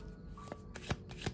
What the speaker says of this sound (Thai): เดี๋ยวทีนี้เราไปดูไพ่ ชุดนี้กัน ชุดภาษาไทยนะคะนี่